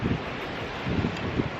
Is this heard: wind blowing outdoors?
yes